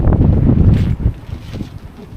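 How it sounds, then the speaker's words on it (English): Wind gusts loudly across the microphone at a waterfront caravan park site at Streaky Bay, a rough, rumbling buffeting that is strongest at first and then comes in uneven, weaker pulses. "Still a bit windy here too"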